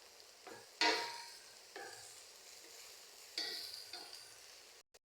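Creamy pasta rice being stirred in a pan with a spoon, giving several scraping stir strokes over a soft sizzle, close and moderately loud with short pauses between strokes and no voices.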